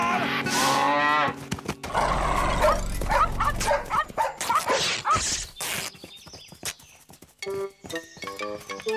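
Two fierce dogs bark and yelp in quick bursts, joined by a bull's long, low lowing moo in the middle; the animals sound close and loud, with scattered bangs and shouting voices around them.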